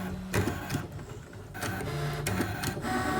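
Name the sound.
Brother ScanNCut machine cutting a stencil outline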